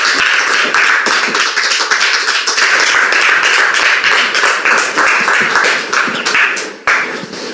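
A studio audience applauds to welcome a guest on a talk show, producing a dense, loud, continuous clapping that stays strong and briefly dips near the end.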